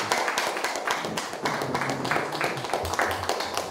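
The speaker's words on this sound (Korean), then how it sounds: "여러분 큰 박수 한번 드리겠습니다" An audience at a signing ceremony for apartment-complex workers' job security gives a round of applause, dense overlapping hand claps sustained throughout at moderate loudness.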